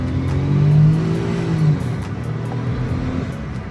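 A Daihatsu Naked Turbo 4WD kei car accelerates on the road, its small turbo engine droning loud and close, pitch climbing then dipping as it shifts through gears, with no talk over it.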